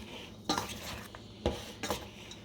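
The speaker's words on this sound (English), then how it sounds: "just mix that all together" Cornbread salad being mixed in a bowl, soft clinks and scrapes of a utensil against the dish in a few sharp strokes, quiet and close.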